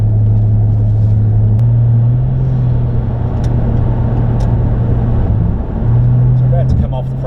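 A Ford FG G6E Turbo cruises on the freeway, heard from inside as a steady, loud low rumble of engine and road noise with slight changes in pitch, while a person talks over it.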